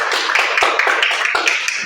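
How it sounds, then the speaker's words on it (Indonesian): Students in a classroom applaud with a dense, steady wash of many hands clapping at once, loud and close with no speech over it. "Tepuk tangan untuk semuanya."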